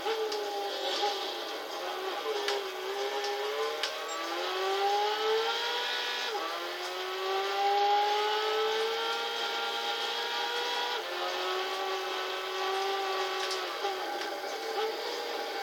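An Abarth Grande Punto engine in the racing game Gran Turismo 6 hums steadily, its pitch rising through the gears and dropping at each shift. The sound is continuous and fairly loud, with no voice over it.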